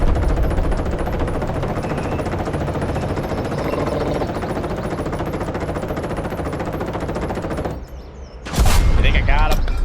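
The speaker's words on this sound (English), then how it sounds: "Top mounted machine gun," Top-mounted machine gun in a video game firing in a dense, continuous burst for nearly eight seconds, loud and close, then cutting off briefly before a sharp loud noise returns at the end.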